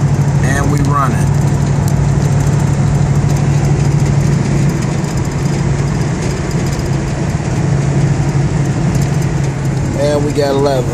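A Box Chevy, an older Chevrolet car, idles with a steady, low engine rumble that holds throughout, while people talk close by over it.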